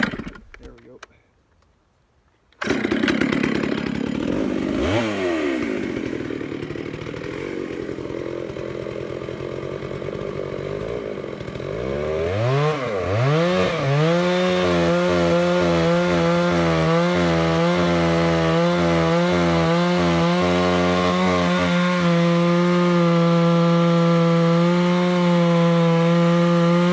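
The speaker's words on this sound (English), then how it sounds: "I'm not really pushing the saw too hard in the cut, and I'm not really going full throttle" A chainsaw starts up after a brief silence, then idles and cuts through wood at part throttle with rising and falling engine pitch, loud and close, settling into a steady high drone.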